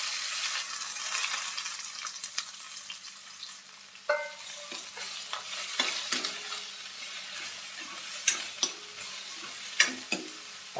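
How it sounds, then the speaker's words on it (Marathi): Chopped onion sizzles in hot oil in a pan while a spoon stirs and scrapes it repeatedly, giving a steady close frying hiss broken by sharp clinks and scrapes, as the base for a chickpea (chana) bhaji. "त्याच्यामध्ये कांदा टाकूया."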